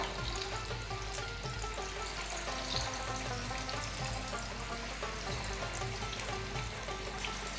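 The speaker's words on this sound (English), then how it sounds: "now time to fry the fish" Fish pakora pieces frying in preheated oil at medium heat give a steady, dense crackling sizzle that holds evenly throughout, close by and with no voices.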